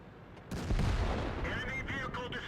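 Tank cannon fire in the game World of Tanks, with a T110E5 heavy tank in play: one heavy booming shot that rolls into a rumbling tail, under a voice commenting.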